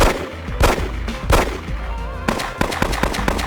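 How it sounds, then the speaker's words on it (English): Gunfire in a movie shootout between Wolfgang and a robber: sharp shots, a few spaced apart early on, then a rapid cluster of cracks toward the end over a busy, noisy background. "proceeds to have a very awkward gunfight with the second robber"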